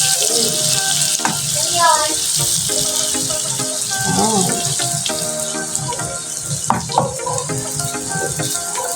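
Garlic frying in oil after onions in a pan for sautéed mung bean stew, a loud continuous sizzle with scraping and clinking of a utensil throughout, no speech over it.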